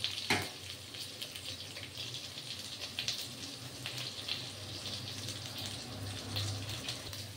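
Pieces of pabda fish fry in a pan for a curry, giving a steady, moderately quiet sizzle and crackle that continues alone without any talk.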